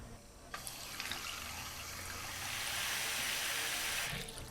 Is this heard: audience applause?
no